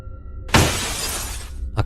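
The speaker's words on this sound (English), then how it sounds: "a crashing noise, like that of shattering glass, erupted in the living room." Sudden loud crash of shattering glass in a living room, a burst of bright breaking debris that rings and scatters for about a second, with a smaller clink of falling pieces right after.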